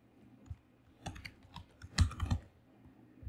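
Keys clatter on a computer keyboard as code is typed, a handful of quiet, close-up taps and short clustered bursts with small pauses between, with no voice over them.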